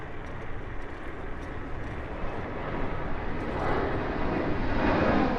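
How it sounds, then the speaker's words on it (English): Airplane flying low overhead near Miami airport, a broad steady engine roar that swells gradually louder over several seconds, with no talk over it. "Obviously, you guys can hear that plane right there."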